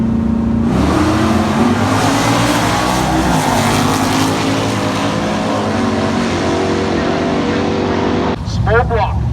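Street drag race car with a small block engine launching, a loud close engine roar that climbs in pitch through the gears, with a commentator talking over it and a brief dip near the end.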